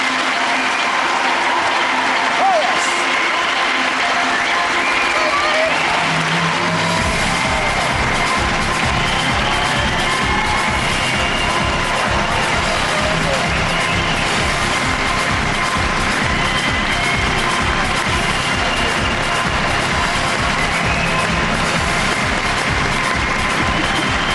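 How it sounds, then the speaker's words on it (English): A large live TV studio audience cheers and applauds loudly and continuously, a dense roar of clapping that swells after a few seconds and keeps going. "Make some noise, please, for Yvette Fielding, Carl Beattie and Dr. K"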